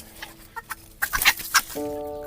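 Close-up bantam chicken clucking in short bursts, a few scratchy rustles, then a steady drawn-out squawking call at the end.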